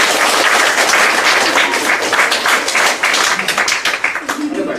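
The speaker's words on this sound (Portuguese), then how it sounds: "Eu acho que ela merece uma salva de palmas." Audience applause for a storyteller at a book presentation: loud, dense clapping close to the microphone, with voices mixed in, tapering off slightly near the end.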